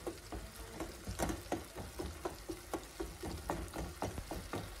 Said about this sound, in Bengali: তো টমেটোগুলো যখন হাফ মানে কুক হয়ে আসতেছিল তখন রাজু এগুলাকে চামচ দিয়ে ভালোভাবে একটু ঘুটে দেওয়ার চেষ্টা করতেছে